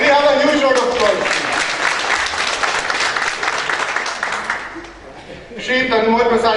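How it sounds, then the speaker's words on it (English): Audience at a technology conference in Haryana breaks into loud sustained applause, near and dense, with a speaker's voice before and after it. "Can we have a huge round of applause?"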